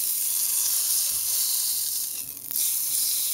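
Edge of a beef strip steak searing in a hot pan: a steady, close, bright hissing sizzle throughout, dipping briefly toward the end, with no talk.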